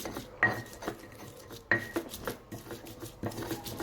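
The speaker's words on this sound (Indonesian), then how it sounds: "Oke, kita ulek sampai halus." Sambal ingredients for rujak, including charred items, are pounded and ground in a stone mortar, with repeated rough scraping and knocking strokes at an uneven rhythm, close by and without talk.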